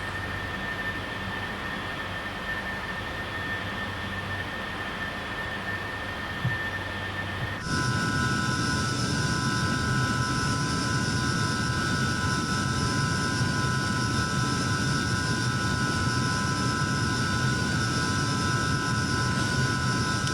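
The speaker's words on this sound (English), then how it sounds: "we looked at a nice jet fighter which was used only for a few years" McDonnell F2H-2 Banshee jet fighter in Flight Simulator 2020 flying over Washington, a steady broadband engine roar with tonal whine that jumps louder and brighter partway through, then holds continuous and close.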